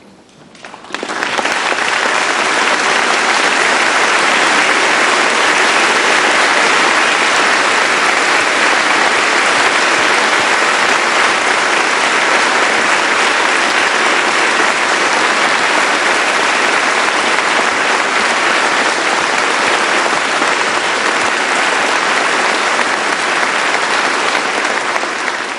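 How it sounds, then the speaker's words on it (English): Sustained, loud audience applause fills a hall at an Oxford University ceremony, a dense, even wash of clapping that holds steady for over twenty seconds without letting up. "I ask them now to stand to receive the tribute of your applause."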